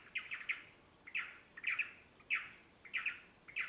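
Agitated birds calling in a forest where a macuco lives, loud sharp chirps and squawks in short bursts repeating about every half second, close and clear over quiet background.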